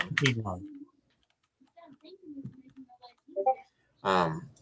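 Keys tapped on a computer keyboard in a short, uneven burst of soft clicks, sitting between stretches of people talking nearby.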